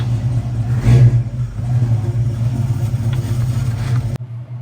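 1968 Ford Mustang coupe idling in gear, a steady low rumbling V8-style burble that holds an even pitch without fluctuating, close by and alone, with a brief swell near the start before cutting off at the end.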